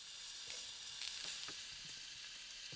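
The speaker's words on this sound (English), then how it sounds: "So you can probably hear my steak cooking." Steak searing on hot rocks at a winter truck camp gives a steady, close crackling sizzle with scattered pops and spits throughout, with no voices.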